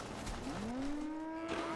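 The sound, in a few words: cattle mooing in the video game Fallout 76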